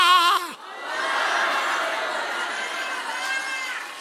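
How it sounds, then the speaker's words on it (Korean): A church congregation at a Friday night service shouting and cheering together, a loud sustained roar of many voices following a single raised voice at the start, then slowly easing off. "우리도 한번 환호성을 질러보자"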